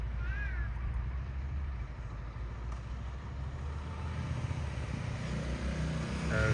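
A motorcycle rides through real traffic with smooth gear shifts, its low engine drone steady and close under wind, with other vehicles passing and a crow cawing nearby.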